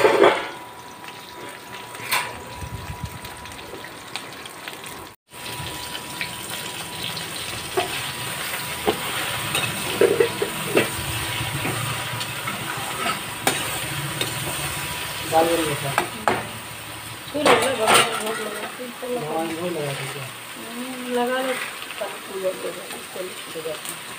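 Ridge gourd (nenua) frying in a kadhai, a continuous sizzling hiss with stirring clatter, joined later by a person talking over the cooking.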